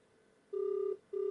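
An outgoing telephone call rings on the line with a steady electronic ringback tone in evenly spaced pulses, clear and alone without talk.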